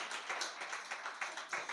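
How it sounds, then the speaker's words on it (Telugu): A church audience claps loudly and steadily during a Telugu sermon, a dense run of overlapping hand claps with soft rhythmic surges, fairly close and with no talk over it. "ఇప్పుడు గట్టిగా చప్పట్లు కొట్టండి."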